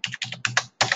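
Keys tapped on a computer keyboard to enter an amount in accounting software, in quick bursts of close clicks with short pauses, no voices.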